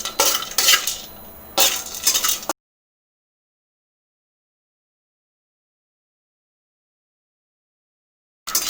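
Whole spices, including mace and a small piece of cinnamon, are dry-roasted and stirred in a pan for chicken masala powder. Close scraping and rattling comes in two short bursts, then a long silence, then a brief return.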